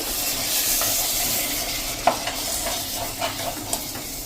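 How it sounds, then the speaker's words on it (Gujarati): Tomato puree cooks with onions in oil in a pan, making a continuous hissing sizzle with occasional light stirring knocks, close and steady. "આ જે ટમેટાની પ્યુરી કરી છે ને એ નાખી દેશું અને એને પણ આપણે 2 થી 3 મિનિટ કૂક કરી લેશું કાંદા સાથે જ આ રીતે"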